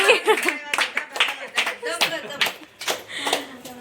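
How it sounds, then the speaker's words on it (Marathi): A family claps to welcome a newborn baby girl at her maternal uncle's home, a quick irregular run of close hand claps mixed with voices talking and calling out. "टाळ्या टाळ्या वाजवा ताईसाठी"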